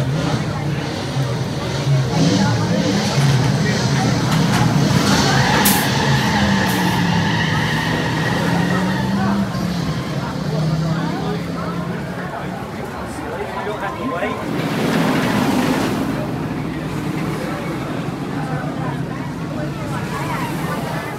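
A roller coaster ride at Dollywood roars steadily and loudly throughout, a continuous rushing rumble with wind and track noise, with voices and shouting mixed in.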